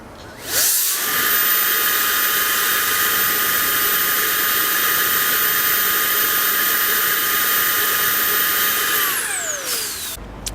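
A Milwaukee leaf blower fitted with a large nozzle spins up quickly and holds a loud, steady high-pitched whine with airy rushing for several seconds, then winds down near the end.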